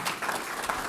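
Brief burst of applause from an audience at an environmental movement program on justice, equity, diversity and inclusion, moderately loud and lasting under a second.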